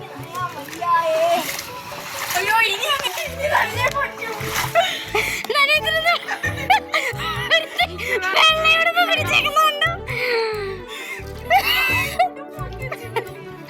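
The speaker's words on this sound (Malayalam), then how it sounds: "സാഹസികമായി വെള്ള ചെരുപ്പിട്ടോണ്ട് ഈ ചളവെള്ളത്തിൽ കൂടെ പോന്നു" Feet in sandals slosh and splash through muddy water in steady, repeated steps, close by, while children chatter and laugh over the splashing.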